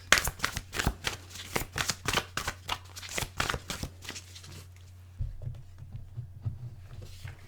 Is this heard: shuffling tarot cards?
yes